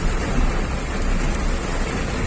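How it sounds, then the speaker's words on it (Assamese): Heavy rain falling steadily as a dense, broadband roar, loud and unbroken throughout with no voices. "একদম ডবল বৰষুণ আৰু হেভি বৰষুণ পূৰা দিছে"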